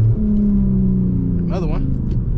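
An Infiniti G37x engine rumbles low and steady as it downshifts, with a short rising-and-falling rev partway through and a voice speaking over it.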